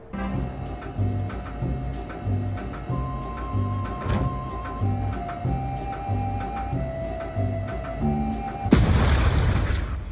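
Gunfire aimed upward in Black Ops 2, with repeated booming shots over a droning game soundtrack and a sharp burst near the end.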